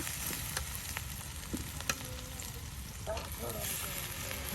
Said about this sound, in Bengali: তেলের সাথে এখন পেঁয়াজ মরিচ তারপর রসুনগুলি কিন্তু একমতন ভাজা ভাজা হয়ে গেছে